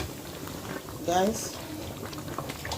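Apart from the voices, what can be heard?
stew boiling in a pot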